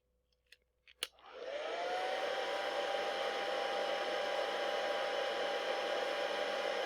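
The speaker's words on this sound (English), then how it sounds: "Take a hairdryer and warm it up." A couple of faint clicks, then a hair dryer whirs on and keeps up a steady, loud blowing hiss with a constant motor whine.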